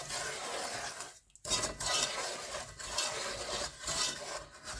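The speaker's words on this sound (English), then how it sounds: "You're just going to do a quick stir at the start to make sure it's all combined." A spoon scrapes and rasps around a pan of sugar and water in steady, close strokes, with one brief pause in the middle.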